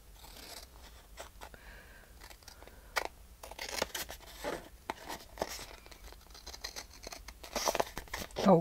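Long scissors cut through paper with irregular snips and crinkly rustles up close, the paper shifting between cuts, fairly soft with no talking.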